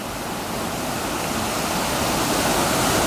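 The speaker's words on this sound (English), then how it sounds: "we can hear rushing water, so we know they've built another weir at the upper end of the lock" Water rushing over a weir at the upper end of a lock on the old Welland Canal, a loud, dense, continuous roar that holds steady throughout.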